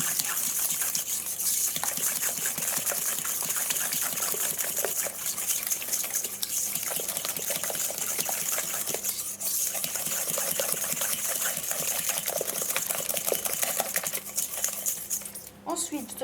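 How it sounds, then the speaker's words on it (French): Clafoutis batter being whisked by hand in a bowl until pale: a continuous, busy metallic scraping and swishing, close and steady throughout. "on va mélanger pour que ça blanchisse un peu"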